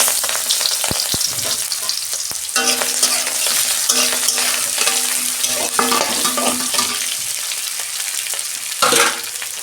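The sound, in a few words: onions frying and being stirred in oil in a pan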